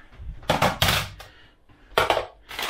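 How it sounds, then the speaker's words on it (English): A mixing bowl is taken out and handled in a kitchen, a few close clattering knocks and scrapes in uneven bursts with short pauses between. "We're gonna get a mixing bowl"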